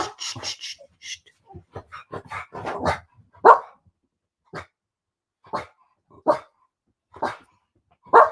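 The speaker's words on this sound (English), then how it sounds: "don't bark now, otherwise I can't hear" A dog barks in short, loud, separate bursts, first in a quick cluster and then spaced a second or so apart, close by with quiet gaps between barks.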